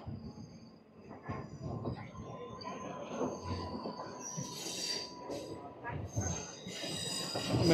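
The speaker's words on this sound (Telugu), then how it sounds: "మెమో ట్రైన్ అయితే వెళ్ళిపోతుంది రాజంపేట స్టేషన్లోకి" A diesel DEMU train runs on the Renigunta–Kadapa line near Rajampet, wheels squealing and rails rumbling at close range, with rising and falling metallic screeches over a steady rolling drone.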